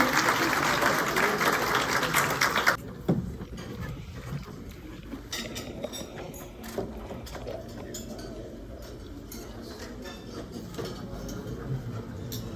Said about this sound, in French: M. El Hadj Amadou Ndao, s'il vous plaît, sous vos acclamations.